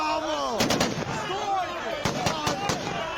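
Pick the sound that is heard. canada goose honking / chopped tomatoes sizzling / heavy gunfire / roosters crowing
heavy gunfire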